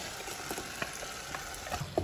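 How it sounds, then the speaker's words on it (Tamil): Ground masala paste fries in hot oil in a home kitchen, giving a soft, steady sizzle with scattered crackles and a few clinks of stirring near the end. "இப்போ நம்ம அரைச்சி வச்ச மசாலா இதில் சேர்த்துட்டோம்."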